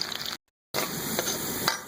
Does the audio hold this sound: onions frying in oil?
yes